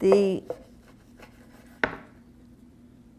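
A knife cuts through a piece of stromboli baked with an egg wash and filled with meats and melted cheese, giving a few short crunchy strokes on a board near the start and another at about two seconds, with a brief word spoken.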